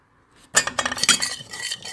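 Spices such as turmeric, red chilli and black pepper powder being mixed into palak paneer, heard as a burst of close, bright clinks and scrapes of a metal spoon against a pan, continuing for over a second.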